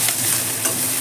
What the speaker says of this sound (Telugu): ఆనియన్స్ కాస్త మెత్తబడేదాకా వేయించుకోవాలండి.